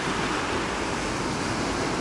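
Sea waves washing over a pebble beach in a rocky pine-lined cove, a continuous close hiss of surf and churning stones, steady and loud with no talking.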